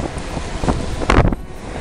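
Wind gusting against the microphone outdoors on a boat or near water as dark weather approaches, a steady broadband rush with louder buffets swelling around the middle.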